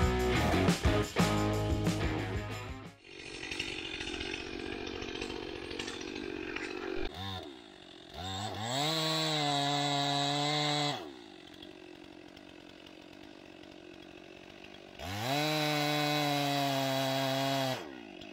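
A chainsaw fells a heavily leaning tree in a forest, with loud close cutting at first, then several separate revving bursts rising and falling with quieter idling between them.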